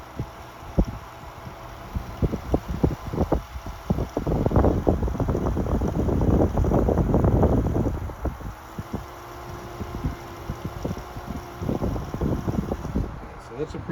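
A Frigid 12-inch oscillating table fan, model FD-123A, runs on high speed, its strong airflow buffeting the microphone in a gusty, uneven rumble that swells in the middle and then eases.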